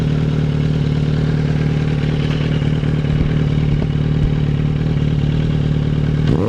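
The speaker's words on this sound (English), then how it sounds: "there's that aggressive sound of this shorty muffler" A 2008 Suzuki GSR400 motorcycle with a shorty muffler idles while not yet warmed up, giving a steady, throbbing, slightly clattery exhaust note close by.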